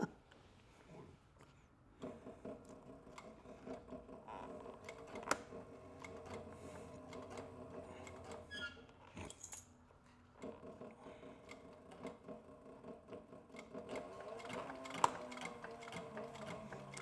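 A sewing machine stitching a leather Pony Express satchel along a straight run toward a corner, a steady mechanical chatter with faint ticks and a couple of sharper clicks, close and alone.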